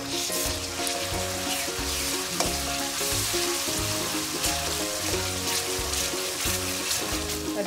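Ginger garlic paste sizzles in hot oil in a pan with a dense, steady crackle, close and continuous, over a faint tonal hum in the background.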